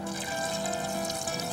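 Water poured into a cooking pot holding tomatoes and small potatoes, a steady close pouring and splashing with no break, heard without talk.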